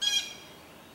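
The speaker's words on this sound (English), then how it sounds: "We hear a blue jay somewhere in the background here" A blue jay gives a single short, harsh squawk in a park along a walking trail, faint and somewhat distant, fading quickly into quiet background.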